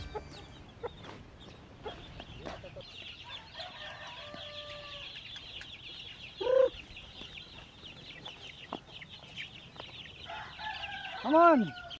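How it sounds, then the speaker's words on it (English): Native chickens on a farm at feeding time, a flock clucking and chattering continuously at moderate distance, with louder nearby clucks and a rooster's rising call near the end. "Now we will feed our native chicken."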